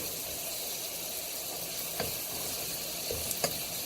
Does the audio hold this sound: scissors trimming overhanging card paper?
no